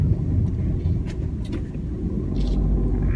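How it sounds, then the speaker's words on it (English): Steady low engine rumble and road roar from inside a moving 2014 Ford Fiesta 1.6 TDCi van, continuous and moderately loud, with a few faint clicks. "it's quite a loud vehicle in general, a lot of engine noise and tyre roar"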